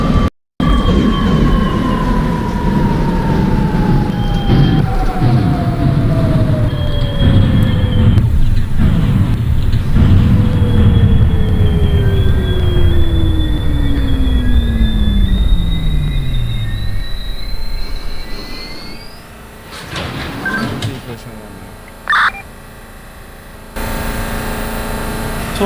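An R62A New York City subway train in the OpenBVE simulator hums loudly and continuously, motor tones sliding down in pitch as it slows, then a rising whine as it accelerates again, with brief clanks near the end.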